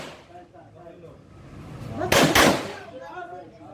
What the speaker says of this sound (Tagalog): Shoot 2 times.